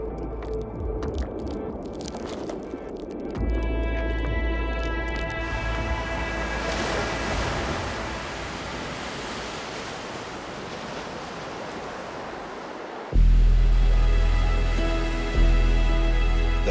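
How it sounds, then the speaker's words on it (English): Storm-driven Pacific surf pounds the shore at Goat Island Marine Reserve, a heavy continuous wash of breaking waves, with sustained musical tones layered over it and a louder surge near the end. "the Goat Island Marine Reserve bears the full brunt of a storm rolling in from the Pacific Ocean"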